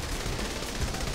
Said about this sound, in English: Yeah, I'm using the shotgun too.